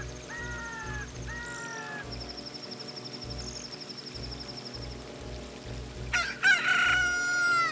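A rooster crows loudly and close near the end, its call rising over a steady low rhythmic hum and faint chirps from other birds, no talk.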